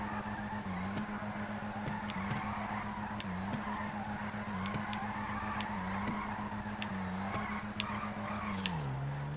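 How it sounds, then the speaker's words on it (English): A Vulcan Warrener car drifts in GTA 5 Online, its engine droning steadily while tires skid and squeal in repeated slides from one direction to the other, close and continuous with no talk. "the car will actually transfer from a left drift to a right drift without the e-brake being engaged"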